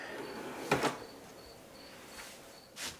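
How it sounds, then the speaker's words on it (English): A small wooden drawer under the seating in a tiny house slides and bumps twice in quick succession, then a softer knock follows near the end, close and fairly quiet over a faint steady high hum. "And I've got a little drawer under here."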